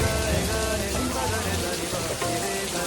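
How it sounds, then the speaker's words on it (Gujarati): Heavy rain falls in a loud, continuous wash during a Ganesh festival outing, a thick steady roar of water that holds level throughout with no clear talk on top. "વરસાદ ફૂલ ચાલુ છે"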